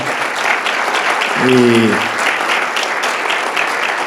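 An audience at a talk on autism claps steadily for the speaker, a dense, even round of applause with a brief vocal sound partway through.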